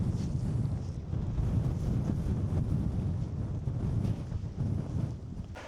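Wind blows steadily at Loch Eriboll in Scotland, a loud, constant rushing buffet across the microphone that lasts for several seconds with no pauses.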